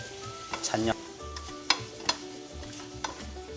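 Fish cake and chili stir-fried in sesame oil, with spatula scrapes and clinks against the pan over a steady low sizzle, a few sharp knocks standing out close by.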